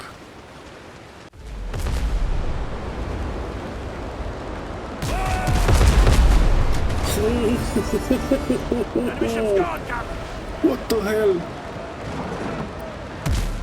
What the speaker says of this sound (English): The cannons I used in this clip were just the green cannons you can build by default.